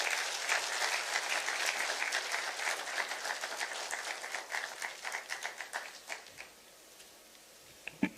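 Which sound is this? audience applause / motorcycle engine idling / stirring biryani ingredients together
audience applause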